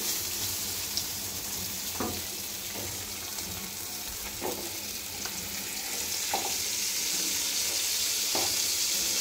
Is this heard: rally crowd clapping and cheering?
no